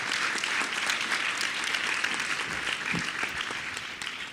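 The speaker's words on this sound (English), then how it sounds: "Please give Kristalina a round of applause" An audience at a conference panel applauds steadily throughout, a dense even clapping that tapers slightly toward the end.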